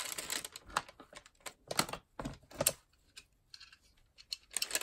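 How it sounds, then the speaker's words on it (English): A large Stanley knife cuts through paper and card while mini CD cover sleeves are being crafted, giving a run of close, scratchy strokes and bursts with uneven pauses between them. "I have here my big Stanley knife, so I'm just going to use that because it's there and it's handy."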